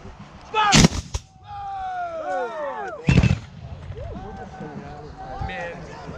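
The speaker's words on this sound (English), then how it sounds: "Fire by battalion!" A battalion volley of musket gunfire at a New Market Civil War battle reenactment, with two loud, sharp blasts about two seconds apart. Shouted commands and crowd noise fill the gaps between them.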